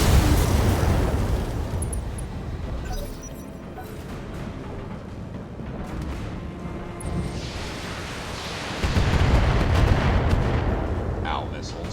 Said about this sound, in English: Ow, missiles.